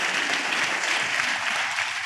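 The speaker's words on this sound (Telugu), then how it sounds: "ఆ తమ్ముడికి చప్పట్లు కొట్టండి గట్టిగా." A church congregation claps loudly together for a brother, a dense, sustained burst of applause from a crowd with no voices.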